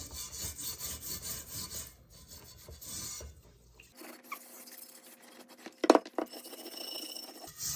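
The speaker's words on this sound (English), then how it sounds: "Okay, I got my metal scraper here." A metal scraper rasps rust off a cast iron pan, a steady close scratching in the first half that turns patchier and sparser, with a sharp scrape or clack near the end.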